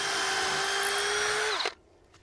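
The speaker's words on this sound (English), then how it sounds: "screw some of these in. See if we can snug this up pretty good." A power drill drives screws into garden box bed boards with a loud, steady, high whine that winds down and cuts off abruptly, followed by quiet.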